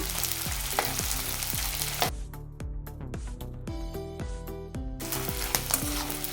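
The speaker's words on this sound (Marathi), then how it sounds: "डिंक छान असा कडक तुपामध्ये तळून घ्या" Edible gum fries in hot ghee with a constant crackling sizzle, punctuated by regular metallic clinks as the pieces are stirred in the pan.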